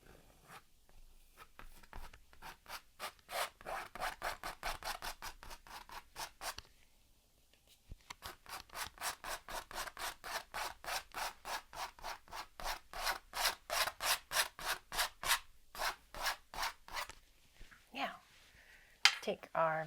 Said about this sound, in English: And everything below, we can just scrape that out.